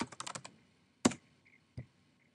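Keys clatter on a computer keyboard as a name is typed into office report software, a quick run of close, crisp taps followed by a couple of isolated louder key presses in a quiet room.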